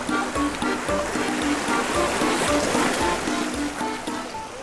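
Strong sea current surging and rushing along a shore during a night tidal-flat foraging trip, a steady broadband roar of moving water with low churning, continuous and close throughout.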